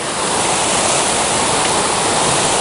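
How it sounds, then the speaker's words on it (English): A waterfall on the Pinhoti Trail roars as a dense, steady rush of falling water, loud and close with no break. "we're here at the waterfall"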